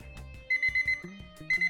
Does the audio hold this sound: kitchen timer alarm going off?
yes